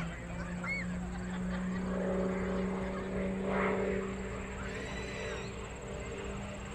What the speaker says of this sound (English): 45 on the up line, just sliding that airplane, cross-controlling it all the way up